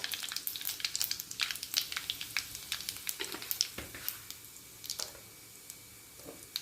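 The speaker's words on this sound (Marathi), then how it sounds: "एक चमचा मोहरी टाकते एक चमचा जिरं हिंग टाकत आहे" Mustard seeds, cumin and asafoetida crackling in hot oil in a pan, a faint, steady sizzle dotted with quick popping and spitting bursts throughout.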